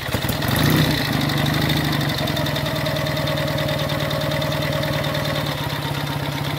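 A 1951 Douglas MkV 350cc motorcycle engine fires up on a hot start and settles into a steady, loud, close mechanical idle with a fast even putter.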